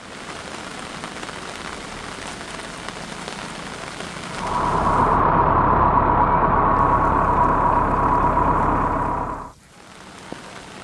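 Heavy monsoon rain pours down in Khed, Ratnagiri, as a dense, loud, steady roar that rises sharply partway through, holds for several seconds, then cuts off abruptly to a quieter hiss.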